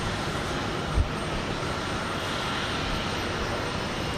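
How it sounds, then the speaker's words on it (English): Airbus A321neo airliner taking off from Houston Intercontinental, a broad steady engine roar at constant loudness with a single brief thump near the start. "An Airbus A321neo"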